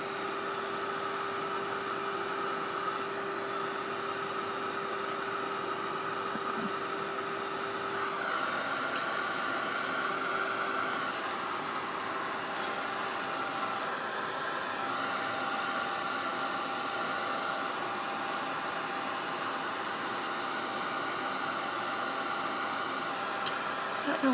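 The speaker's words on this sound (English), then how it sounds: "the warmth of this heat tool is going to put me to sleep" A heat tool blows hot air steadily over a paper bag for a paper-craft shaker project, a continuous moderate whooshing hiss with a faint hum that barely changes.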